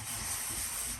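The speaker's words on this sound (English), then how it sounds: "let's do a little bit of blotting paper" A soft, steady rubbing hiss runs close and continuous for about a second as blotting paper is pressed over fresh Pure Pens St George's Cross fountain pen ink on a Silvine memo book page.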